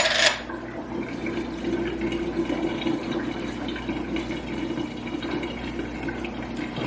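Water drained from a container used for wetting hands while working bread dough, producing a steady, moderate gurgling pour and trickle that continues evenly after a brief louder splash at the start.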